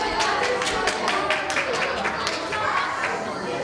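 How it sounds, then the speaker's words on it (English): Audience applause at a youth festival quiz, sending off an eliminated contestant: a steady patter of many hands clapping, moderately close, sustained for the whole stretch with faint voices mixed in. "To give you a big round of applause."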